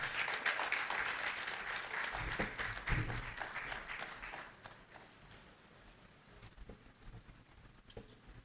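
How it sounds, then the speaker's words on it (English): A large audience at a port-sector ceremony claps in a dense, sustained round of applause that starts loud and gradually thins and fades toward the end, with no talking. "Shall we please give her a resounding round of applause?"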